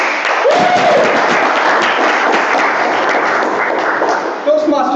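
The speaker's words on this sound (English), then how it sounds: "So let's give a big round of applause for Toastmaster Vishnu." A meeting room audience at a Toastmasters pre-charter meeting breaks into loud, continuous applause for a speaker, with dense clapping holding steady for several seconds before a brief dip at the end.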